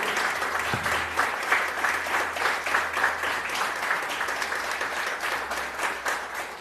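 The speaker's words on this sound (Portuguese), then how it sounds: "Vamos dar uma salva de palmas para Ele." A congregation applauds at the start of a Sunday church service, sustained, even clapping from many hands throughout, with a faint low hum underneath and no talk.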